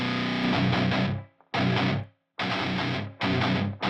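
Distorted electric guitar run through a Pultec EQ boosting 100 Hz and 3K gives heavy, full-bodied chords in four loud bursts, separated by short silences where the sound cuts off.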